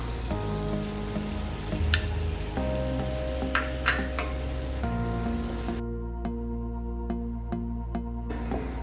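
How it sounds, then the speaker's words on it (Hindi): Flour roasting with garlic in melted butter in a pan over medium flame, with a steady gentle sizzle and a few sharp clicks of stirring, close and unbroken, no speech. "मैदे को हम मीडियम फ्लेम पे भूनेंगे।"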